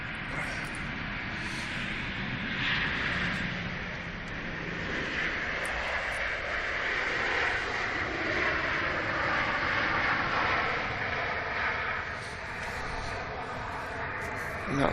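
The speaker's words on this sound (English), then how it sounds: "There's Ryanair from Paris." A Ryanair airliner from Paris roars steadily at Manchester Airport, a broad sustained engine noise that swells and eases slightly over several seconds, with faint talk in the background.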